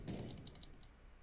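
Someone typing hard on a computer keyboard, a quick run of sharp key clicks over roughly a second, close and fairly faint, with background game sound from Warcraft 3.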